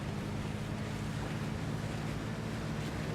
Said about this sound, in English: Oops, there's another boat here.